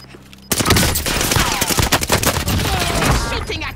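Enemy gunfire in Call of Duty Warzone Pacific on the Caldera map, a loud burst of rapid automatic shots starting abruptly and rattling continuously for about three seconds.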